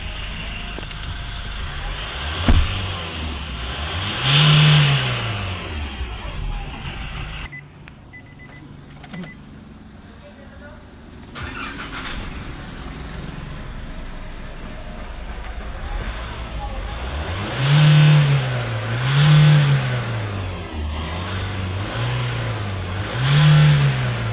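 A Nissan Navara engine with a dirty turbo, EGR and intake, after cleaning, is revved several times in bursts that rise and fall, loud and close, with a quieter idle stretch between them.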